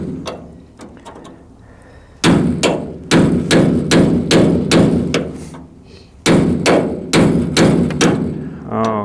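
Loud, sharp hammer strikes on metal ring out in steady bursts, several blows in quick succession with short pauses between groups.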